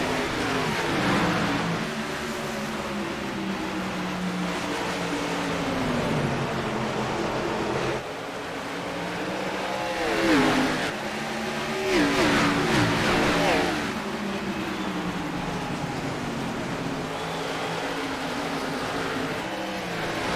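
Race cars at Richmond accelerate together after the green flag of an AREA Lodgebox Series playoff race, a steady dense engine roar with rising revs and passing swells, no talk.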